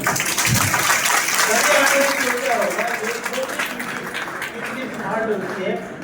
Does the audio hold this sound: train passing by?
no